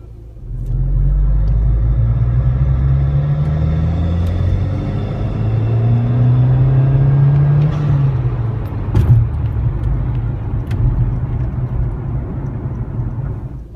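A car engine on a boost run: a loud, close rumble rising as it accelerates, pitch climbing steadily for several seconds before easing off to a lower steady drone.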